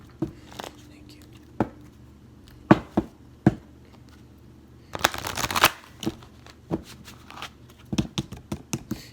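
A tarot deck shuffled by hand, scattered soft taps and card slaps with a denser riffling burst in the middle, close and quiet, with faint murmured speech around it.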